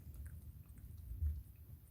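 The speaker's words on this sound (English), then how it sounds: "What are you chewing?" A dog chewing softly close by: low, wet, irregular mashing and biting sounds that go on steadily, faint and without any talking.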